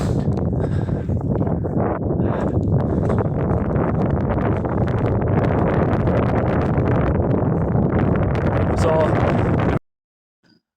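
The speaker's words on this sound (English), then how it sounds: "I'm having to show you how bad the wind actually is" Strong wind buffets the microphone on an exposed hill at Crook Hill, Watergrove near Littleborough, a loud continuous roar and rumble lasting about ten seconds before cutting off abruptly.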